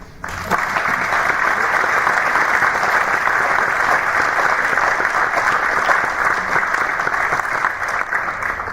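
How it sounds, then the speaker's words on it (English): A packed arena crowd at a Syracuse men's ice hockey alumni ceremony breaks into loud, sustained applause after a brief quiet start, a dense steady roar of clapping that holds strong for the full stretch. "let's make a loud clap so we can hear it all the way home"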